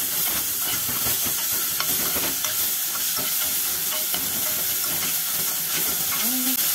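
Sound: stirring tomatoes in a frying pan

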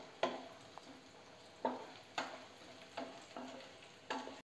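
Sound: cashew nuts and coconut frying in ghee

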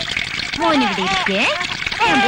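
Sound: water running from an opened tap

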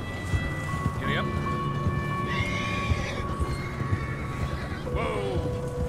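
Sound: horse whinnying and hooves in Red Dead Redemption 2 video game

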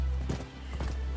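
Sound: horse hooves galloping in video game Rise of the Ronin

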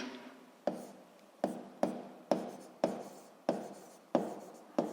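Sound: writing down a physics equation

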